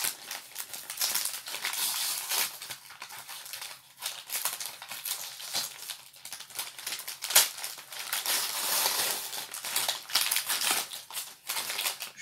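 Heavily taped paper wrapping on an advent calendar gift being torn open, continuous close crinkling, ripping and crumpling with sharp tears scattered throughout.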